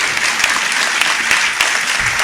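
A large audience claps at a speech by Sirsa's Deputy Commissioner launching the Nasha Mukt Bharat campaign. The applause is dense, loud and continuous, with a few sharper individual claps standing out from the crowd.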